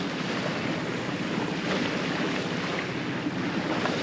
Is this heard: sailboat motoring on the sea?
yes